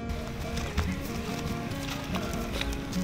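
A horse in northern Ghana clip-clopping at a walk, steady hoof knocks over a dense outdoor background, with brief voices now and then.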